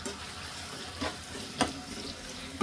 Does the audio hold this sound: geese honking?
no